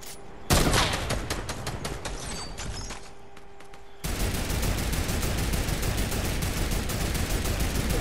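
Mounted turret in the Fortnite video game, firing in rapid sustained bursts that run loud and continuous through the clip.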